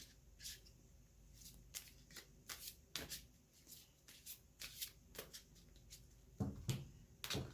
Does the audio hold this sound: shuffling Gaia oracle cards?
yes